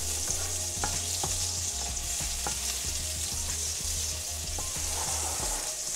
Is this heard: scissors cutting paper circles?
no